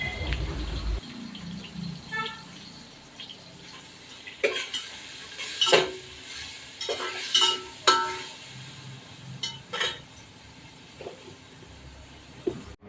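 Onion frying in oil in a pan while chicken dum biryani is being made, with soft sizzling under a series of sharp clinks and scrapes of a utensil against the pan, spaced through the clip.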